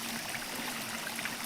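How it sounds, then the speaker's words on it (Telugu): Water at the Chamakurthy Gangavaram waterfall rushes in a dense, steady roar, close and constant with no pauses. "నీళ్ళు బాగా మన మీద పడుతుంది."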